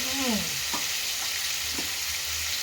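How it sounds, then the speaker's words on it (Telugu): Fish pieces fry in hot oil with a continuous bright sizzle, and a couple of light utensil taps and stirs sound close over the hiss. "ఒక ట్రిప్ వేయించుకున్నాం మళ్ళీ సెకండ్ ట్రిప్ వేయించుకున్నాం"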